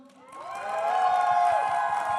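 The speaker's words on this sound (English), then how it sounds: "Why are men clapping?" Audience members at a live talk show clap in a steady, sustained round of applause with some crowd noise, fairly loud and close.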